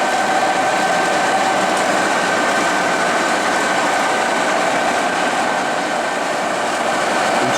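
Steady mechanical hum and whir of a 36-inch Webster Bennett Model DH vertical turret lathe spinning at 45 RPM, a constant droning machine tone with a faint high whine, even in loudness throughout with no talk.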